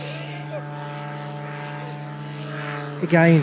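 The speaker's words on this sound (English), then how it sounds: "a kite and a lawnmower engine to keep me off the ground" A paramotor, a kite wing pushed by a small lawnmower-style engine, drones steadily overhead, a constant buzzing hum with a person talking over it.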